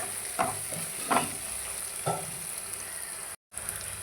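Shallots, green chilies and garlic sizzling in hot oil with mustard seeds, a steady close frying hiss broken by a few stirring scrapes and one brief dropout.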